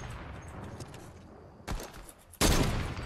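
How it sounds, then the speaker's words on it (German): Sniper rifle shots in the video game Fortnite, two sharp loud cracks with a short booming tail standing out above quiet background game noise. "ich hab ihn durch den Baum gesniped"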